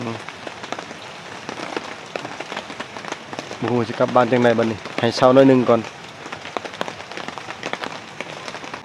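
Steady rain patters across the whole stretch in a forest, with a person speaking Thai over it for a few seconds in the middle.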